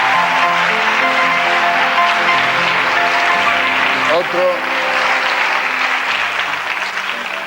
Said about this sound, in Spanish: yo quiero un gran aplauso para él y para su gato